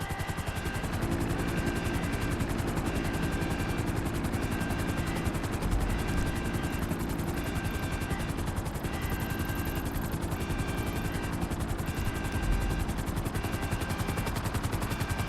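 A Cuban 800 smuggler plane drones steadily in GTA Online, a constant loud propeller engine hum with a rapid buzzing pulse that holds unchanged from start to finish, with no talk.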